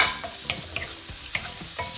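Ham frying with cabbage in a pan, a close, continuous sizzle with a few sharp stirring clacks and scrapes at irregular moments, no talking.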